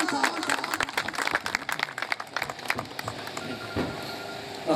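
Audience clapping and crowd noise at a Dua-e-Khair gathering in Mangwal, welcoming the union council nazim to the stage, a dense steady wash of applause with voices mixed in throughout.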